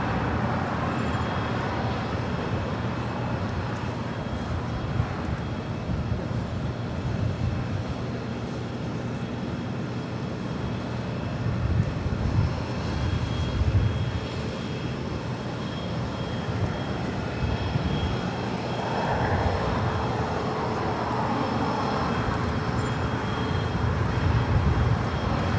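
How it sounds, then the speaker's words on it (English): A Cathay Pacific Boeing 777-300ER jet departing LAX for Hong Kong, a continuous broad roar of engines heard from a distance with steady rumble and slight swells over the span. "Next departure is the 777-300ER heading to Hong Kong with Cathay Pacific."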